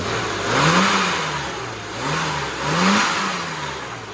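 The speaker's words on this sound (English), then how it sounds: "So just reach in and press the throttle." A car engine on a road tuning run revs twice as the throttle is pressed, pitch rising and falling in two smooth swells over steady interior road noise, close and fairly loud.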